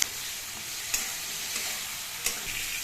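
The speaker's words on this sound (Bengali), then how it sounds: "সামান্য জল দিয়ে মশলাটাকে খুব ভালোভাবে কষিয়ে নেব।" Spice masala of chili paste, cumin and coriander powder loosened with a little water, frying and being stirred in a pan for a green-banana kofta curry; a steady close sizzle with a few soft spoon scrapes.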